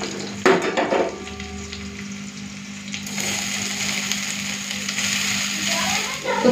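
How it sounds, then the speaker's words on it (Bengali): Banana stem pieces drop into a pan with onion and spices, a clatter followed by a steady close sizzle and light stirring scrapes. "এখন দিয়ে দেবো থরটা।"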